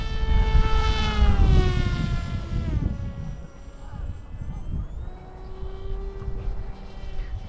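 An electric motor on an RC Giant Wing 1200mm plane running on a 4S 2200mAh battery whines at full throttle, a strong harmonic buzz that starts loud and close, then drops and shifts pitch as the plane passes, with wind noise underneath.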